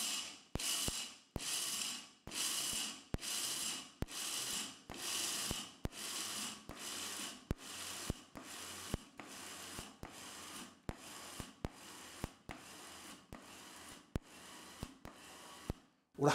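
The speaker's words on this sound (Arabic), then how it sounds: "وراح نخليكم الفيديو كيما راني نطحن فيه هكذا" A food processor pulse-grinds cocoa beans in a steady series of short whirring bursts, roughly one per second, each ending with a sharp stop, close and fairly quiet with no talking.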